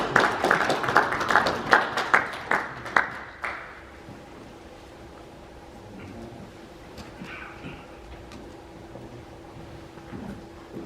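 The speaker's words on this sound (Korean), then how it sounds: "박수 한번 쳐주시기 바랍니다." An audience at a Korean church council gathering in Atlanta breaks into a burst of rhythmic, fairly close handclaps. The applause lasts a few seconds, then fades into quiet room tone.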